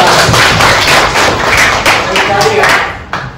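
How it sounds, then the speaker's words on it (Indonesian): A classroom group claps hands together, a loud close burst of uneven overlapping claps with a few sharper slaps, trailing off near the end. "Tepuk tangan semua."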